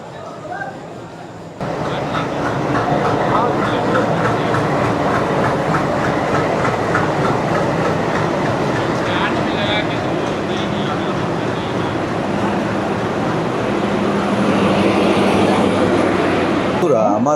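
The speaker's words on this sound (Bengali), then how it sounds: "আমার ট্রেন হিমগিরি এক্সপ্রেস 14 নম্বর প্ল্যাটফর্মে ঢুকছে।" Himgiri Express pulling into platform 14 at a busy Indian station, a loud steady rumble with rhythmic clickety-clack of coaches rolling past, continuous throughout with platform crowd noise.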